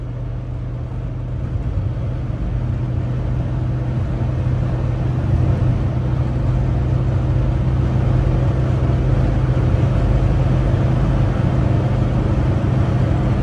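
Interior of a 1980 Mercedes 300SD turbo diesel while driving, a steady low engine drone and road rumble holding constant, fairly quiet cabin with no talk.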